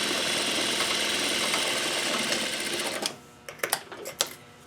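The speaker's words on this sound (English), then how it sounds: "Now we'll sew, I use a 1/2 inch seam" A sewing machine stitches a half-inch seam through three layers of fabric for a face mask. It runs as a loud, steady, rapid mechanical whir for about three seconds, then stops, and some scattered clicks and handling sounds follow.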